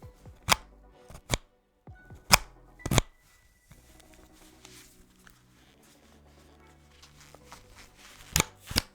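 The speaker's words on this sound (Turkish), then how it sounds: "Plastik kalitesini de dinlemeniz açısından yaklaştırayım." Sharp clicks and taps on a plastic PoloSmart PGM27 gaming headset close to the mic, a few scattered knocks followed by soft creaking handling and two more crisp snaps at the end.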